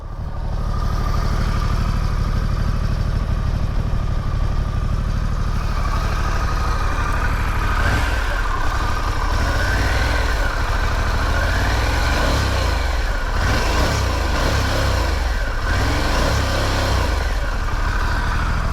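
A 2021 Harley Davidson Pan America 1250 motorcycle engine revs from a loud idle in repeated short, limited blips, close up, with the rumble rising and falling in pulses.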